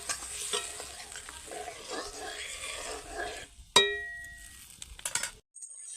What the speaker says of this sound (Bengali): মশলাটা কষানো হওয়ার জন্য সময় দেব